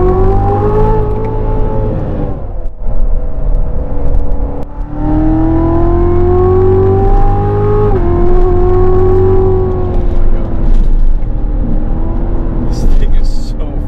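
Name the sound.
Chevrolet C7 Corvette Z06 supercharged V8 accelerating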